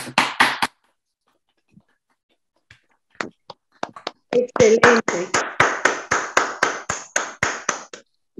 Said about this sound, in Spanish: Yo creo que podemos cerrar con un aplauso merecido